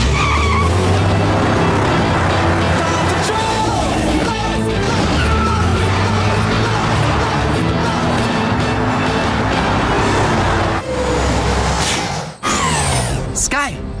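A cartoon rescue vehicle driven by Robo-Dog from PAW Patrol speeds off, with a loud continuous engine roar and tire skids, then a sharp whoosh and screech near the end.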